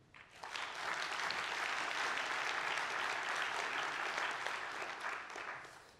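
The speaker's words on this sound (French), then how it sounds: "Vous pouvez l'applaudir." An audience claps steadily for a speaker at a web accessibility conference, with dense, sustained applause swelling in after a brief pause and tapering slightly at the end.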